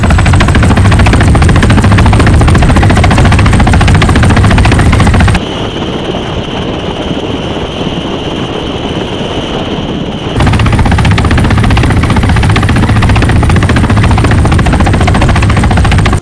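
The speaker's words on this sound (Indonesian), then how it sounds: "lagi-lagi kita menemukan helikopter polisi ya teman" Loud, steady police helicopter rotor thrum close overhead, continuous and heavy, with a brief muffled dip in the middle before the full roar returns.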